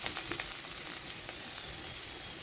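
Garlic and onion sauté in a hot pan, a steady, close sizzle with fine crackling pops running unbroken throughout, no voices.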